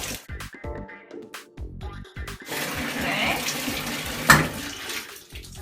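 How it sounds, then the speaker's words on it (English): Tap water runs steadily and splashes while a dry-clean-only garment is rinsed by hand in a sink, starting after a few soft handling knocks, with a short spoken word over the flow. "Just going to take some water and rinse it out real good."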